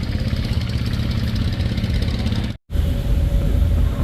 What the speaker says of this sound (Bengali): লঞ্চ ডক থেকে পারাবতের যে ডক সেই ডক থেকে বের হয়ে এখন তার স্বাভাবিক সার্ভিস স্পিডে চলতেছে